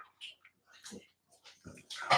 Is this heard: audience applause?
no